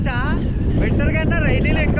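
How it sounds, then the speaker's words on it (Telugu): Strong monsoon wind at a hilltop viewpoint buffets the microphone in a steady low roar, with a voice talking faintly underneath. "ఇప్పుడు వర్షాకాలం ఎఫెక్ట్ ఓ రేంజ్లో ఉంది విండ్"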